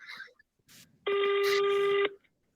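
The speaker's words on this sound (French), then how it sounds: "Sonnerie surprenante." A short electronic telephone ringtone sounds once for about a second, preceded by brief, quiet bits of talk.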